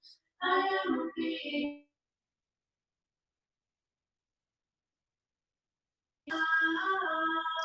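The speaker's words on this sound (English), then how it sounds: "I think someone might need to mute their phone." A phone ringtone goes off during an online breathwork session: a bright melodic burst at the start, a long silence, then the tone rings again near the end.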